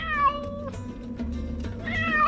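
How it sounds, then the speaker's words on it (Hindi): A pet cat meows repeatedly indoors, drawn-out, wavering cries that rise and fall, close and fairly loud, with a steady low background hum beneath. "मुझे बिल्ली की आवाज आ रही है।"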